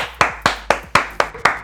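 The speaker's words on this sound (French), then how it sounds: "On applaudit tous le Diamant d'or." Hands clapping in a steady rhythm, six sharp, close claps spaced about a quarter second apart, with no crowd behind them.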